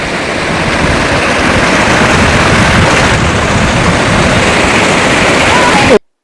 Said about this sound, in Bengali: এত সুন্দর একটা পাহাড়ি ঝর্ণার আওয়াজ এখানে